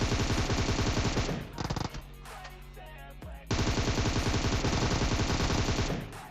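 Rapid automatic gunfire from an M7 rifle in a video game rattles loudly in long continuous bursts, breaking off briefly in the middle before resuming just as intensely.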